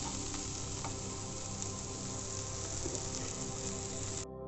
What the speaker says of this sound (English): We continue to stir till the vegetables are soft.